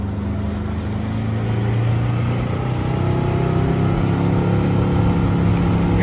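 A Mercury 150 horsepower outboard motor revs hard during break-in, a loud steady engine roar climbing in pitch and holding high throughout, with no talk over it.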